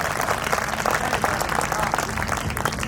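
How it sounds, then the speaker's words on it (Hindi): Audience applause at a Hindi poetry gathering (kavi sammelan), a dense, even wash of many hands clapping that holds steady throughout. "तो सबके लिए एक बार तालियां बजा दीजिए"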